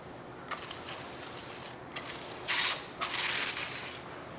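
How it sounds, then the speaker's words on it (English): Short hissing bursts of a spray gun spraying prep solvent, a brief blast followed by a longer spray with a pause between, fairly close. "I'm going to spray it with some prep sol."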